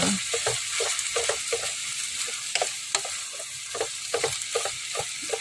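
Santol fruit sautéing in a pan with sizzling oil, a constant close hiss broken by frequent light spatula scrapes and taps in an irregular rhythm, no voices.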